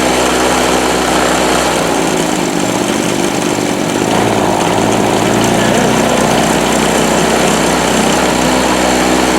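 A Harbor Freight Storm Cat 2-cycle generator runs loud and close, its buzzing engine rough and uneven at first, then settling into a steadier drone.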